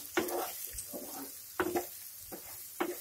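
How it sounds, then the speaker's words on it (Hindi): Roasted gram flour being stirred into stuffed brinjal in a pan: soft, faint sizzling under a few quick scraping stirs, with no one talking. "बेसन को हमने पहले से भून कर रखा हुआ है और इसको अच्छे से मिक्स कर देंगे"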